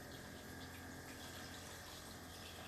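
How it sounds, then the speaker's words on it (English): Water is poured into a glass vase to fill it, a steady gushing rush running unbroken and fairly loud throughout, with no voices. "Okay, so I'm going to just fill this up with water."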